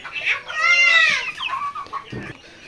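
Desi, layer, tiger, Fayoumi and Egyptian chickens cluck and squawk close by in a coop, a loud burst of overlapping calls that tapers into quieter clucks with a brief thump near the end.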